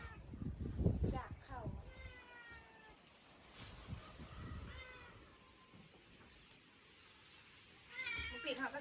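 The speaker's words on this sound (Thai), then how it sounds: "แมว" A cat meows repeatedly in short, clear calls, with quieter voices talking intermittently around it in a home kitchen setting.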